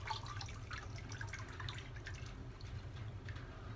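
Ceramic glaze pours back into a bucket in a soft, continuous liquid trickle and splash, close and quiet, with no talking.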